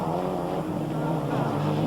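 Ford Escort Cosworth and Mitsubishi Lancer rallycross cars race hard at Mondello Park in 1995, their engines making a loud, dense, continuous roar close by.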